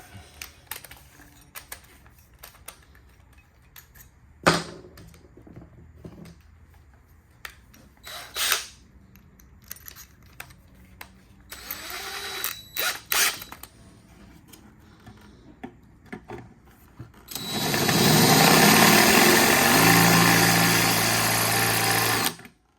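A cordless drill with a partly drained battery strains at a stubborn screw, first in short scattered bursts and clicks, then in one loud, steady whirring run lasting several seconds near the end.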